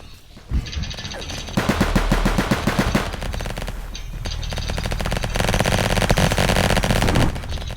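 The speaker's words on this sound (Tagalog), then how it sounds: "Ratratin natin sila." Rapid machine gun fire in a Roblox FlagWars match, loud sustained bursts of fast repeating shots running almost the whole clip with a brief pause midway.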